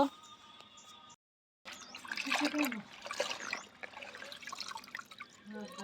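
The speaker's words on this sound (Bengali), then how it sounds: "এখন আমি পাতাটি ভালো করে ধুয়ে নেব" Custard apple leaves being washed by hand in water, soaked earlier in a bucket, giving close splashing, dripping and trickling that starts after a short silent gap and goes on unevenly.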